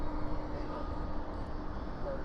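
A jet airplane roars steadily on takeoff at night at DFW airport, a loud, sustained low engine rumble heard from a distance across the airfield.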